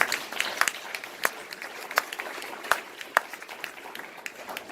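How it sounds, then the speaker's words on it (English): At a live stand-up comedy show in Frederick, Maryland, the audience claps in scattered, uneven bursts with sharp individual hand claps standing out over a thinner wash of applause. "Give yourselves a round of applause."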